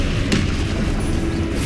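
An Incendio fire spell is cast in Hogwarts Legacy, a loud booming whoosh with a sharp crack near the start, then a continuous close roar.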